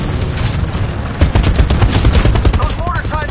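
Mortars and gunfire in a video game battle make dense, loud, rapid bursts of shots and thuds that crowd together without pause.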